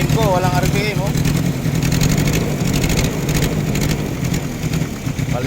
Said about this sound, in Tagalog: Yan, namamalya po yung engine at hard starting.